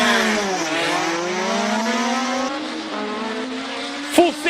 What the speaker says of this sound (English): It's a Mark 79A, 4-cylinder, 2-liter in capacity all the way from 1979.